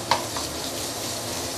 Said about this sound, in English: This is the time where we can actually add in the minced pork